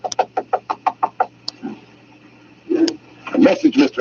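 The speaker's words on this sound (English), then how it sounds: "Don't want to knock too loud," Knuckles knocking on a door, a quick run of about eight even raps close by, followed by a pause and then a voice speaking.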